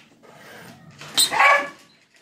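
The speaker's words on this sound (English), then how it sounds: "I'm sorry you have to hear my dog bark." A dog barks once sharply and close, followed by a brief whine, in a home kitchen during baking.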